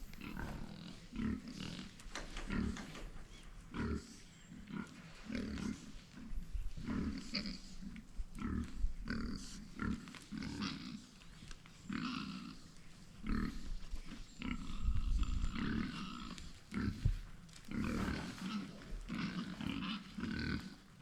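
Show pigs grunt and snort continuously at close range, a dense, rhythmic chorus of low snuffling grunts with no talking, around feeding time.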